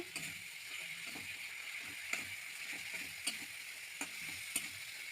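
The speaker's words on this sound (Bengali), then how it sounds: "এবার অল্প জল দিয়ে মশলাটা ভালো করে কষিয়ে নেব।" Spiced masala for a rohu fish curry is stirred and fried with a little water in a pan, giving a soft steady sizzle broken by regular scraping strokes of a spoon, close and fairly quiet.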